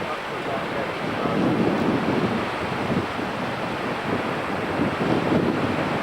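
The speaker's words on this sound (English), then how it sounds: "The wind got stronger and stronger." Strong wind blows steadily by the water during a September fishing trip, a continuous loud broadband roar with gusts and faint wave wash, heard alone without talk.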